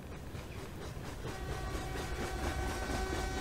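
A train rumbles past in the Summer of '58 video game, a faint, steady clatter of wheels and carriages that slowly grows a little louder.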